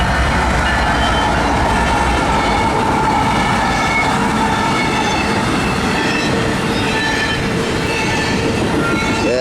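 A CSX intermodal freight train hauled by ES44AC and AC44 locomotives rolls steadily past in wind and rain, with continuous loud rail and wagon rumble, wheel squeal and a clickety rhythm throughout.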